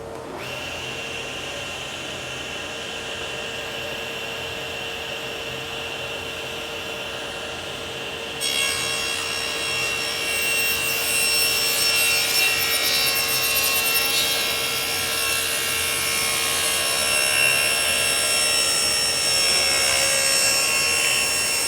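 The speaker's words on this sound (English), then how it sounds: "will be in contact with my stringing the entire time as it passes the blade, so I don't receive any kickback from the blade." A saw blade cutting thin wooden inlay stringing, heard as a continuous machine whine with a steady rasp of the cut that grows louder and brighter partway through, close and without speech.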